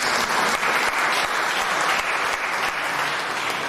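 Meeting attendees applaud in agreement with a resolution, a dense, steady burst of many hands clapping at once, loud and continuous throughout with no talk over it.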